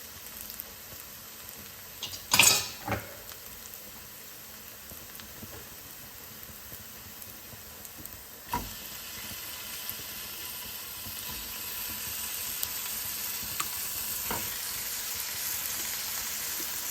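Chicken pieces frying with onions in a pan for mint chicken curry, a steady soft sizzle throughout with a few sharper clatters of ingredients going in near the start and middle.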